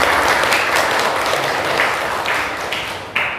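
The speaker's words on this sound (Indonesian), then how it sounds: "Tepuk tangan Mbak" Loud, dense applause from a classroom of students, a steady wash of clapping that stays close and full and ends with a few sharper final claps.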